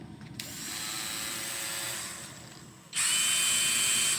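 A 20V brushless cordless polisher/sander running at high speed, a steady close whine that drops briefly and then returns louder and higher-pitched, with no talk.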